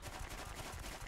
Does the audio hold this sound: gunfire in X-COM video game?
yes